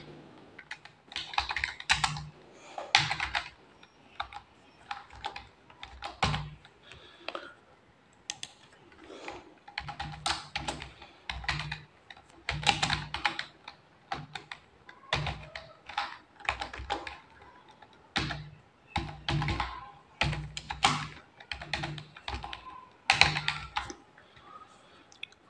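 An applicant's name is keyed into an online land-record mutation form on a computer keyboard: close, crisp clicking keystrokes in irregular rapid runs separated by brief pauses, continuing at length without speech.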